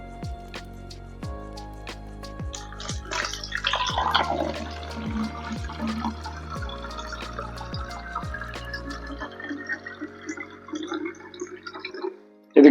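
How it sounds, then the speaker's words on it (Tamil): Water pours and drips into a plastic bottle being filled for a DIY CO2 setup for a planted aquarium, a close liquid trickle running steadily and then stopping with a sharp knock at the end. "நம்ம வந்து வாட்டர் ஆட் பண்ணணும்."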